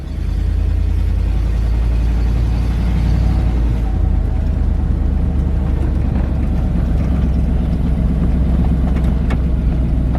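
A truck on a test drive after a transmission brake valve body install for an E4OD/4R100 gearbox: a loud, steady engine drone with low rumble, close and continuous, shifting slightly in tone partway through.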